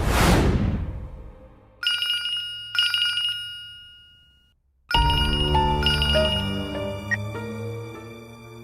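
A phone ringtone plays, two short electronic ringing bursts followed by a louder melodic tone sequence, clear and close with no talking.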